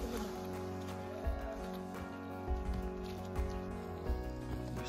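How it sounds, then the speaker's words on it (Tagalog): Steady rain falling on a muddy mountain trail on Mt. Apo, a dense, continuous patter heard close and fairly faint with occasional louder splashes or footsteps. "The rain did not stop for the past 2 days."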